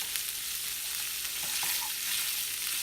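Chorizo and eggs sizzle steadily in pork grease in a hot pan, a soft continuous hiss with a few small pops, heard alone at moderate volume.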